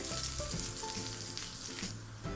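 Kunjikalthappam batter sizzles and fries steadily in a hot pan, a continuous close crackling hiss with brief bubbling surges, alone with no talk.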